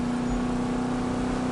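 A car in a racing video game using nitrous, a continuous loud engine roar with a steady high whine held throughout the short stretch.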